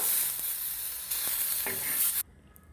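Onions frying in a pan, a loud continuous close sizzle with soft stirring scrapes that cuts off abruptly near the end, leaving near quiet.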